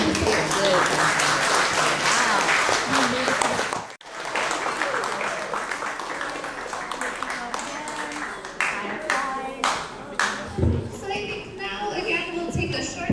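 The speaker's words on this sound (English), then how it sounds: "Okay, round of applause." A room claps after a timed slide presentation at an education week competition. The applause is dense and sustained with a brief dip partway, then thins into scattered claps as voices start talking.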